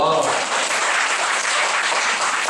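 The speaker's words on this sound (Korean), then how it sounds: "박수 한번 쳐주세요" A church congregation breaks into loud, dense, even applause that carries unbroken through the whole stretch.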